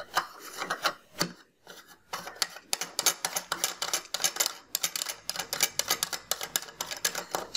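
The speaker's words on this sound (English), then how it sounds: "just quickly unscrew the focuser. Thread in the 10mm adapter." Focuser of a Stellarvue 50mm photographic guidescope being unscrewed and a 10mm adapter threaded in: quiet, close rubbing and scraping of metal threads in short repeated bursts, with no voices.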